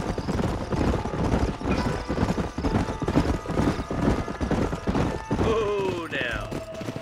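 Horses in the video game Red Dead Redemption (2010) clip-clop in a busy, steady rhythm of hoofbeats, with several animals close by, and a horse whinnies near the end.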